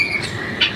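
One short, sharp bird squawk sounds close by near the end at a mini zoo in Cagayan de Oro City, Philippines, over a faint steady background hum.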